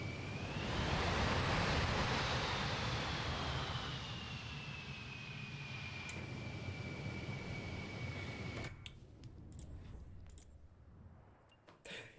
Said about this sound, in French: atterrissage à l'aéroport de Courchevel en Concorde